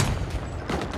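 Automatic fire from an M16 rifle in a Call of Duty multiplayer match, a short loud burst of rapid shots filling the whole moment.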